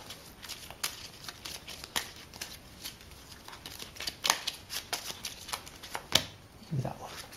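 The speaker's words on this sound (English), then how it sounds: "Let's open shuffle up." Citadels game cards are shuffled by hand, with quick riffling snaps and soft slides in uneven bursts, close and crisp, with no talk over them.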